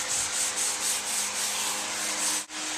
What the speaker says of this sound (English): A t-shirt and stain, and you just apply it and rub it in.